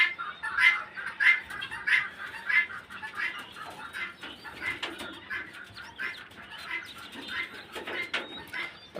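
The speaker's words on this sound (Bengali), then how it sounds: "এই হলো আমার কবুতর।" Pigeons at their coop, a small backyard loft, flutter and shuffle in repeated short bursts of wingbeats close by, with bird calls mixed in throughout.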